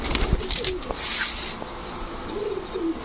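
Giribaz pigeons in a loft coo softly at close range, low rolling calls surfacing a few times over faint background rustle and hum.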